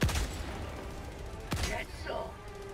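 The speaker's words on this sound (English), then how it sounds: "Oh my god, two shots! This gun's awesome!" Two sharp, booming gunshots from the video game Helldivers 2 ring out about a second and a half apart, each followed by a short rumbling tail, with a player's voice talking over them.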